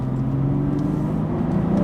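A 2018 BMW M4 Competition with a manual gearbox drones from inside the cabin while driving, a steady low engine hum with a mild rising tone and no talking.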